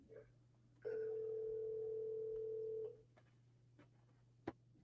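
A telephone rings on an outgoing call: one steady two-second ring tone over a faint line hum, then quiet with a brief click near the end.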